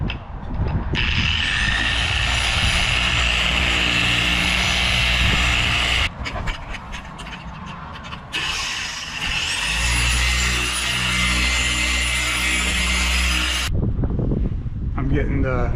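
An electric polisher applies finishing polish to the hull of a C-Dory 24 TomCat boat. Its high motor whine spins up, holds steady, breaks off briefly, then spins up again close by.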